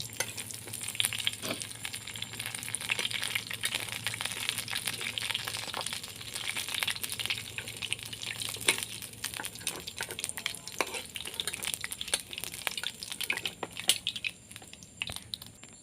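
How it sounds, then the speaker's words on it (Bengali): Lentil fritters frying in oil in a village kitchen, with a continuous close sizzle and dense crackling spatters plus occasional stirring clinks, steady and loud for the whole stretch with no talk. "বড়া ভাজা হয়ে গেছে এখন বড়াটা নামিয়ে নিব"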